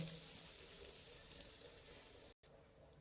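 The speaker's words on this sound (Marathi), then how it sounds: "आता खजूर चांगला आपला तुपावर परतळून झालेला आहे" Dates fry in ghee in a pan with a steady, close sizzling hiss that runs unbroken for nearly the whole stretch, cutting out only for a moment near the end.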